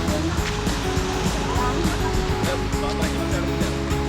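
Ocean surf rolling in at a summer beach in Baler, a steady loud wash of breaking waves with voices talking over it.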